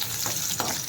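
Onion and green chillies sizzle in hot oil in a pan, a steady close frying hiss with a couple of brief stirring swells and no voices.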